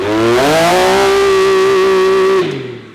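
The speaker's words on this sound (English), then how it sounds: "Now our X3 has a nice throaty sound" A Can-Am Maverick X3 engine roars loud and close through an XDR single-exit exhaust, rising in pitch, then holding a steady throaty rev for about two seconds before dropping off.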